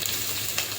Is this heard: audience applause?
no